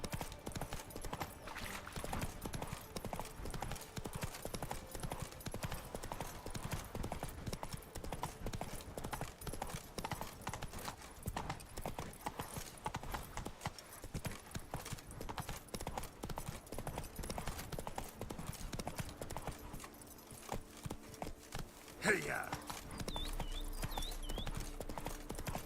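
Hooves of Roach, the horse in the video game The Witcher 3, clip-clop in a steady walking rhythm across uneven terrain, heard up close under faint game ambience, with a brief neigh near the end.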